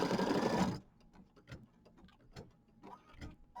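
An embroidery machine stitches a mini quilt with a dense, steady mechanical whir that stops abruptly, leaving scattered soft clicks and small handling taps.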